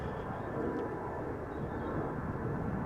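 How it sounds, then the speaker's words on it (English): An Embraer airliner approaching at Amsterdam Schiphol Airport, heard as a steady, broad distant engine roar that holds at a constant low level throughout. "Alright, so there's an Embraer coming this way."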